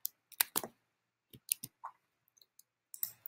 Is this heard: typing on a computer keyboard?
yes